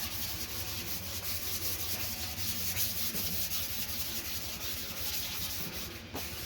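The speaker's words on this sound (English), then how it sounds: "I'm just giving it one final sanding" Sandpaper rubs back and forth across a wooden tool handle in quick, rhythmic strokes, close and steady, with no talking.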